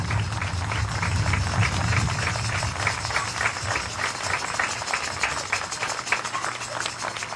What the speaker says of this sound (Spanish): ¡Fuerte el aplauso para María!